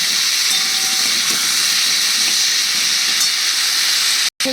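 Pre-boiled soybean chunks fry in a little oil with salt and turmeric while being stirred, giving a loud, steady hiss that runs unbroken and cuts out briefly just before the end.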